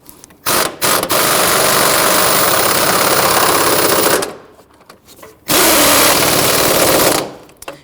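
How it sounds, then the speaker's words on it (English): An impact driver hammers transmission mount bolts tight on a 2011-2015 Kia Sorento 2.4L L4, two loud sustained bursts of rapid rattling with short trigger blips before and a quiet gap between. "I'm going to use our impact driver to go ahead and tighten that down."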